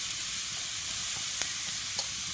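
Pieces of bottle gourd fry in hot ghee with cardamom, giving a continuous loud, even hiss with a couple of faint pops.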